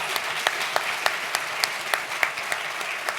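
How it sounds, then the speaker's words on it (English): Audience at a racial justice breakfast event applauding the honorees: steady, moderately close clapping with sharper individual claps standing out at intervals, sustained throughout with no speech over it. "Please join me in giving an incredible warm round of applause to these amazing folks."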